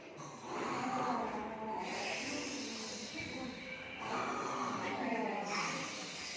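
Voices imitate loud snoring in two long, rasping snorts, each drawn out over a couple of seconds with a pause between.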